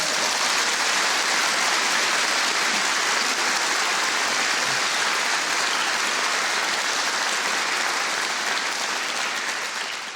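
A studio audience at a quiz show recording gives a loud, dense round of applause that holds steady for about ten seconds without pause.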